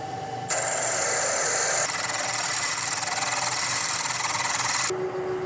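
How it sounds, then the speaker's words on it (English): A mini lathe machines the compound base, with a steady, loud broadband cutting whine that starts abruptly and holds for about four seconds before stopping, leaving the motor's hum running underneath. "just machining the compound base"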